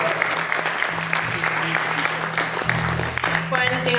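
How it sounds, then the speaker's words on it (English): An audience claps for a trumpet ensemble at a band performance, steady crowd applause throughout with a low hum underneath and faint voices near the end. "Give a round of applause for the last trumpet ensemble real quick."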